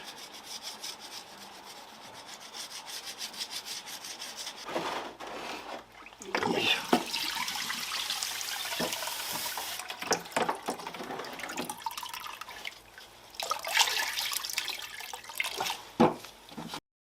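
A Mazda RX-7 FD3S rotary engine rotor is scrubbed by hand and rinsed under running water, with close, rasping rub strokes and bursts of splashing.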